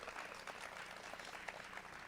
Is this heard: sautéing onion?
no